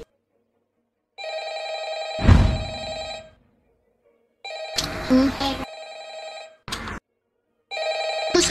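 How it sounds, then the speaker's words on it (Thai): Electronic telephone ring in the video game VRChat, several harmonic ringing bursts repeating with gaps, loud and close, with brief voices or noises cutting in between rings. "โทรศัพท์ดัง"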